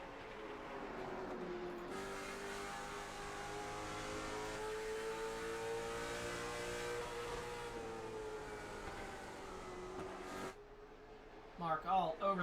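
Late model stock cars race on the oval at Myrtle Beach, a sustained loud engine drone with steady harmonic whine that holds for about ten seconds before cutting off, with a commentator talking over it.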